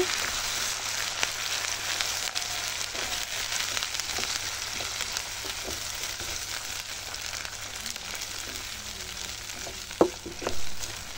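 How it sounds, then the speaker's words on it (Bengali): Onion paste frying in a pan, stirred now and then with a spoon, gives a steady close sizzle with scattered scraping clicks and a louder knock near the end; no voices. "এখন নেড়ে চেড়ে দিচ্ছি"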